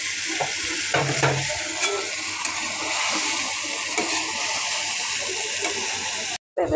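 Okra (bhindi) frying in a pan after spices have been sautéed, giving a steady bright sizzle with a few scraping stirs near the start, close and fairly loud, cut off abruptly near the end.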